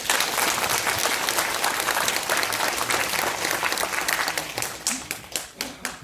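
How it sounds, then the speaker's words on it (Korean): Audience applause at a Gwangmyeong-Siheung public housing district briefing, dense clapping from a crowd that thins into scattered individual claps toward the end. "여기 위원회가 큰 박수 한번 좀 보내주십시오"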